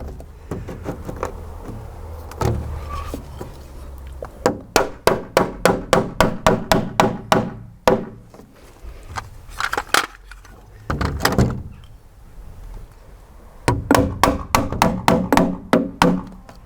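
Polycarbonate roof trim on a carport being tapped down through a block of wood, with sharp close knocks falling in quick runs of several blows, split by short pauses and bits of quieter handling.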